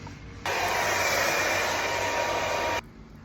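A hair dryer blows steadily for a couple of seconds, a loud even hiss that switches on abruptly and cuts off just as suddenly.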